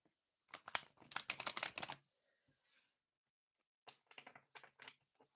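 Tarot cards being shuffled in quick crisp riffles, a dense burst of papery clicks for about a second and a half, then a short pause and a few lighter scattered flicks and taps, close and fairly quiet with no talking.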